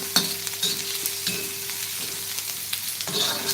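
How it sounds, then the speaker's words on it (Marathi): Finely chopped onion frying in hot oil for an egg curry, a steady broadband sizzle with periodic scrapes and stirring knocks of a spatula against the pan, close and alone with no talk. "तेल गरम झालं ते आपण एक बारीक चिरलेला कांदा घालूया कांदा चांगला परतून घ्या"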